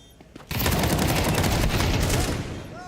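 Rapid M4 rifle fire in a Counter-Strike match, a loud dense burst of rattling gunfire starting abruptly after a brief lull and continuing for about two seconds before fading.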